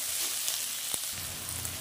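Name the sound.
onions frying in a pan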